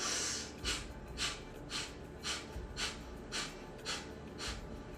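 Breath of fire exercise: sharp, rapid nasal exhales pulse in a steady rhythm, about nine forceful puffs close to the listener, with no talking.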